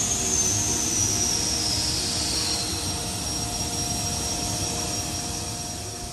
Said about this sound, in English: The air is provided by four Ingersoll Rand air compressors that pump out almost 1400 CFM at 120 PSI.